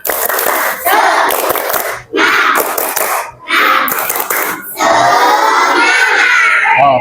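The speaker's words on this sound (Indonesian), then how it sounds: "Tepuk semangat." A class of students performs the rhythmic tepuk semangat spirit clap, loud group clapping in several quick patterned bursts separated by short pauses, ending in a longer burst mixed with children's voices.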